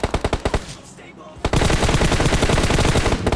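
M4 rifle fire in a battle royale shooter, rapid automatic bursts that are loud and close, with a brief pause and then a dense continuous stream of shots.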